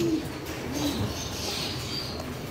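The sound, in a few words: racing pigeon hen cooing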